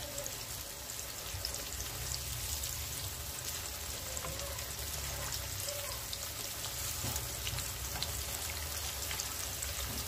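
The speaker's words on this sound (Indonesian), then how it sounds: "Sembari menunggu, kita goreng tahunya." Tofu pieces frying in hot oil for an Indonesian sambal bawang meal, a steady close crackle and sizzle that runs unbroken and fairly soft, with no talking.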